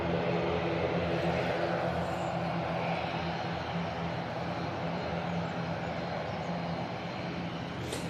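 An Aer Lingus or Qatar airliner departs Manchester Airport on a windy day, its engine roar a steady broad rumble held at an even level throughout, with no speech.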